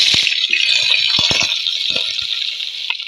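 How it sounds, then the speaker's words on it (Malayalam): Sliced onions drop into hot coconut oil in a pan, setting off a steady bright sizzle with a few soft knocks and clatters as they land, close and without talk. "ഉള്ളി ഇട്ട് കൊടുക്കാം."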